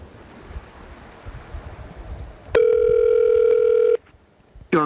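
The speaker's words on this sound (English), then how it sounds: "The phone wants to call Alex" A mobile phone places a call, sounding a single steady tone of about one and a half seconds after faint background noise, followed by a short electronic burst at the end.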